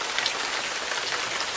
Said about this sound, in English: Here is the water fountain.